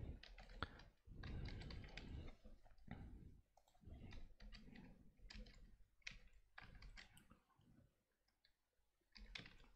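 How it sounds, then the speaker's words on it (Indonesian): Typing on a computer keyboard, faint close bursts of rapid key clicks separated by short pauses, alone without speech. "Ini kita ketik lagi."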